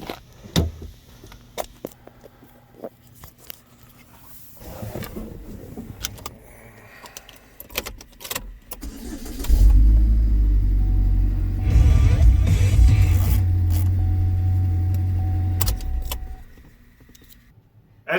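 A Chevrolet Equinox or Camaro answers a key fob being locked and unlocked: faint clicks and small clacks, then a low, loud rumble for several seconds that fades away near the end.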